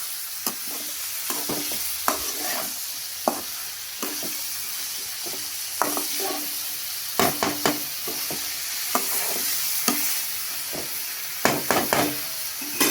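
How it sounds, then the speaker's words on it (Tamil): Bitter gourd sautés in plenty of oil in a pan, a continuous close sizzle broken by frequent sharp scrapes and clacks of a stirring spoon, with no voices. "அந்த எண்ணெயிலே பாவக்காய் நல்லா வதங்கும்"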